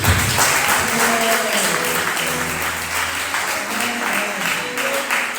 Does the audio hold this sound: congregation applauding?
yes